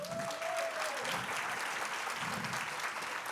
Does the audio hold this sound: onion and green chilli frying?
no